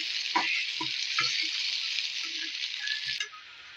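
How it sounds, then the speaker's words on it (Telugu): Small bitter gourds frying in hot oil, a bright, steady sizzle close to the pan, punctuated by a few soft knocks and clinks from stirring utensils, and easing off at the very end. "ఆయిల్ వేడే వేడైన తర్వాత బాగా ఎర్రగా వేయించుకోవాలా"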